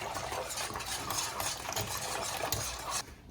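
Heavy cream is stirred into a lobster bisque mixture in a pot, giving a dense, continuous wet swishing and scraping at close range that cuts off abruptly near the end, with no talk.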